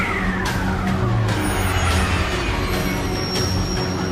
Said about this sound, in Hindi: अरे वहाँ गाड़ी तेज भगाओ रे